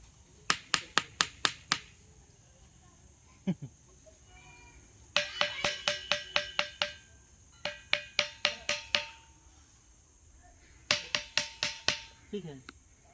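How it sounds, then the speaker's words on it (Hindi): A ringing stone, the thinthini patthar, is struck in quick bursts of four to six sharp metallic clinks that sound like iron, repeated several times in an outdoor setting with faint talk between strikes. "कहा जाता है कि ये पत्थर लोहा जिससे आवाज़ करता है"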